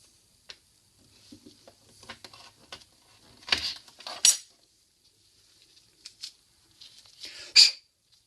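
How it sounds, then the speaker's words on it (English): Length of rubber fuel feed hose being cut while fitting an in-tank fuel pump on a 1999 Subaru WRX, heard as sparse close snips and scraping clicks with a few louder crunching cuts. "I'm going to cut a bit for here for the fuel feed hose"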